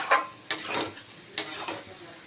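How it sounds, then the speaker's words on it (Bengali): Poppy seeds hitting a hot pan for a vegetarian Malabar spinach dish, a few brief scraping clatters spaced about a second apart over a faint sizzle, close and quiet. "এখন পোস্ত দিলাম, দিয়ে আর একটু ভেজে নিয়ে"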